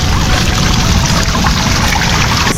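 Water pours and splashes continuously over a bicycle being washed. The rushing, trickling sound stays loud and close with no talk.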